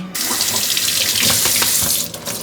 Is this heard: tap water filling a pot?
yes